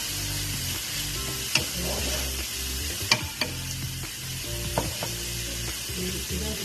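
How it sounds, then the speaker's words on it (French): Spices stirred in a frying pan for chicken pasta: a steady sizzle of frying with scraping stirs and a few sharper clinks of the utensil against the pan. "On va mélanger les épices."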